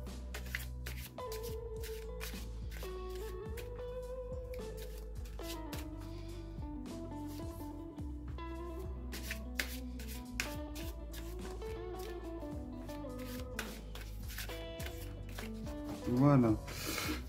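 Tarot cards are shuffled and cut close by, a soft continuous riffling and rubbing under a woman's speech and calm background music, ending with a brief sharper tap.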